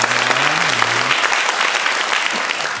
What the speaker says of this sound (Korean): 우리 박수로 한번 환영하도록 하겠습니다.